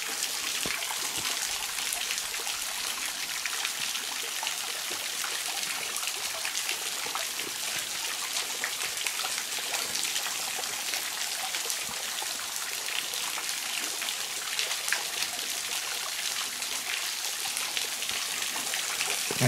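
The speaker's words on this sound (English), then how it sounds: "Nice little waterfall." Steady splashing water falls and trickles continuously, a bright, dense rush with no talking, from a small waterfall close by in the Blue Mountains near Lawson.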